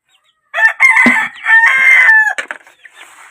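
A rooster crows loudly and close by, a long drawn-out call, followed by a few short clucks from a flock of about 45 chickens.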